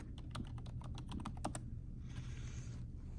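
Quick keystrokes on a computer keyboard as a password is entered at a desktop login, a brisk run of close clicks over a steady hum, followed by a softer rustle.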